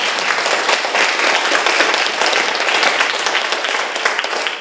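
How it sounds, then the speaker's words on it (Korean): An audience at a Korean youth forum on Park Chung-hee claps loudly and steadily, a dense, close wash of applause that holds for several seconds before easing slightly. "큰 박수 부탁드리겠습니다."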